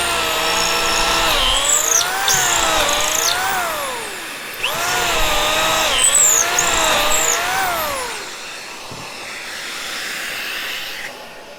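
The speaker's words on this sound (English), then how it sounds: "And so we just drill a couple holes." Power drill boring a couple of angled holes into wooden stiles in a woodworking shop, two loud whining bursts with rising and falling motor pitch, then a quieter hiss trailing off.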